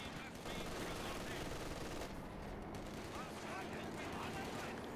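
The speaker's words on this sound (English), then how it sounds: "Doesn't want to get caught under the arc of this MG." Sustained machine gun fire from an MG emplacement in Company of Heroes 2, a dense, continuous rattle of rapid bursts with battlefield noise, loud and steady across the whole stretch.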